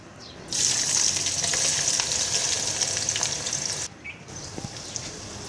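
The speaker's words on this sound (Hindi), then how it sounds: "इसमें बारीक कटे हुए प्याज शामिल करेंगे, इनको ब्राउन करना है" Finely chopped onions hitting a cup of hot oil, a loud sizzle flaring up at once and frying steadily with a brief dip and stirring noises before settling back to a bubbling hiss.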